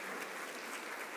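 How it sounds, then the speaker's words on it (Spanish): A crowd claps steadily, a dense, even patter of applause throughout the brief moment. "Un fuerte aplauso a nuestro equipo médico"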